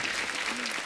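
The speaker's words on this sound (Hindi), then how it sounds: "एक बार इनकी फिटनेस के लिए जोरदार तालियां हो जाए यार।" Brief burst of audience applause at a Hindi television show, dense steady clapping from a studio crowd lasting under a second.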